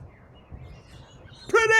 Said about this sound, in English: Please enjoy the rather more soothing sounds of Brisbane bird life.